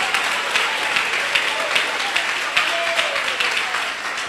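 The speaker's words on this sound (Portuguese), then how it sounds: "E eu quero ouvir palmas misturado com glória a Deus" A church congregation claps at length during a sermon, a dense, lively stream of applause with faint voices calling out mixed in beneath.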